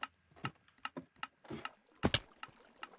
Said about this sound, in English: we can kind of see this working a little bit. You can hear it clicking.